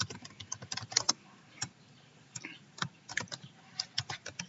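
Typing on a computer keyboard while entering a section name into inventory software, with irregular bursts of close key clicks and short pauses, no talking.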